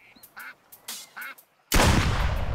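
A duck quacks in several short separate calls, fairly close, and then a sudden loud burst like a gunshot or blast cuts in and rumbles on to the end.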